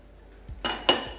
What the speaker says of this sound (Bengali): একটা সসপ্যান বসিয়ে নিচ্ছি।